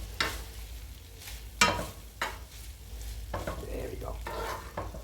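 Half a tablespoon of butter melting in a warm pan as it is stirred, a soft sizzle broken by scraping spoon strokes and knocks, close by, with a brief spoken comment.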